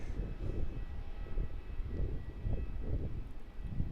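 A Qantas airliner in retro livery at Melbourne Airport produces a steady, moderately distant engine roar and rumble that holds throughout without any talking.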